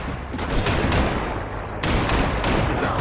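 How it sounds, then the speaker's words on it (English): Gunfire in a Max Payne 3 shootout, dense, loud bursts of rapid shots overlapping in a continuous barrage, with no voices. "Who's shooting at me?"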